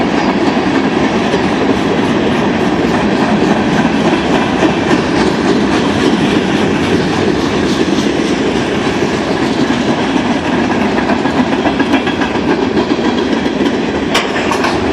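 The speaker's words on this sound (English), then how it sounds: "That's old Southern Hopper on Southern Rails." A Norfolk Southern freight train with old Southern hopper cars rolls past close by on Southern rails near Charlottesville, a loud, continuous rumble with steady clickety-clack wheel noise throughout and no talking.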